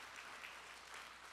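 A church congregation claps together in a brief, steady burst of applause, faint and distant, with no voices over it.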